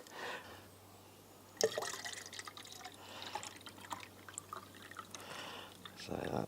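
Fixer liquid for film developing pours and splashes into a container, a gurgling trickle with small drips and clinks, heard up close over a low hum.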